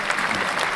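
Applause for a barber on a live radio broadcast, a short steady burst of many hands clapping close and fairly loud with no talk over it.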